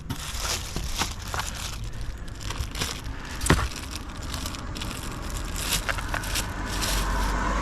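A plastic bag crinkles and crumples up close while gear is packed for a long-distance bike ride, with irregular crackling bursts throughout and one louder crunch midway.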